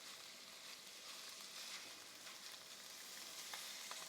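Ground beef for ravioli filling fries in a pan with a steady, soft hiss and crackle, close and continuous with faint pops, and no voices.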